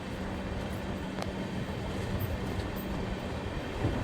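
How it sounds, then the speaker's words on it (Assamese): A passenger train crosses the Ganga river bridge near Farakka on a journey from Assam to Kolkata. Heard from on board, it makes a steady, loud rolling rumble with a brief metallic clack. "আমি গংগা নদীৰ ওপৰেদি গৈ আছোঁ ট্ৰেইনৰ জৰিয়তে"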